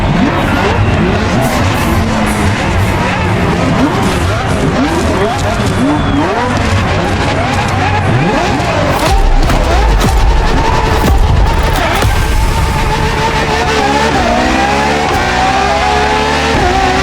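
A LaFerrari hybrid supercar races in the video game The Crew Motorfest, its engine roaring and revving continuously with rising and falling pitch sweeps and tire squeal, loud and close, while someone talks over it.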